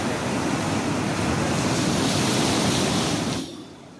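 Loud, steady roar of crashing sea surf, a dense continuous wash of waves that holds strong for over three seconds before easing down sharply near the end.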